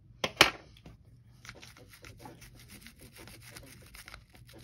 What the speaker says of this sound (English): The straight bristle brush tends to work better getting around things, but toothbrushes help a lot too.